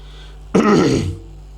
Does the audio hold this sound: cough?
yes